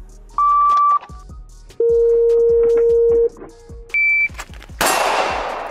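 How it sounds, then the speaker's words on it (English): Electronic shot timer beeps during pistol shooting practice with a Taran Tactical Glock 34: three loud sustained tones, the middle one long, interspersed with clanks and handling noise, ending in a sharp gunshot burst with a hissing decay. "if I did not properly hear the beep"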